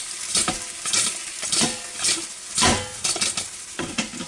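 Frozen chicken wings are shaken in the basket of an Instant Pot Duo Crisp air fryer, giving repeated rattling, scraping bursts of wings against metal in an uneven rhythm, close and fairly loud, with no talking.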